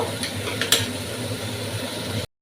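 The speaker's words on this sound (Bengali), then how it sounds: "দেখুন এইভাবে নাড়াচাড়া দিয়ে ভালোভাবে আমি কষিয়ে নিচ্ছি" Katla fish curry with fried potatoes being stirred and sautéed in a pan, a steady close sizzle with scraping spoon strokes and a couple of sharper clinks, cutting off abruptly at the end.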